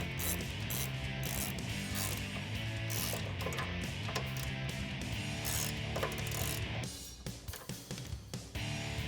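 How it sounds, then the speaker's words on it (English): A ratchet drives a 10mm socket to tighten the factory bolt for a hood strut on a 2011-2018 Jeep Wrangler JK, with steady clicking over a dense, continuous background that thins out near the end. "I'm going to use a 10mm socket here at the factory bolt."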